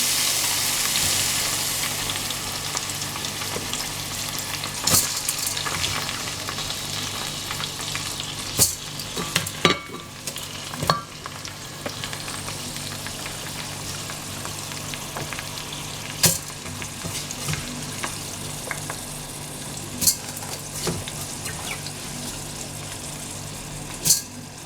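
Rice frying in a saucepan, sizzling steadily and loudly throughout, with repeated sharp scrapes and knocks of stirring scattered over it, close up and without talk.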